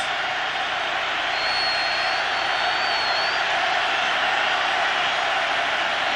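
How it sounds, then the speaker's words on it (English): A packed football stadium crowd roars in a constant, dense wash of noise, loud and unbroken, at a Michigan versus Oregon college game. "Everybody on their feet. Crowd bringing the noise."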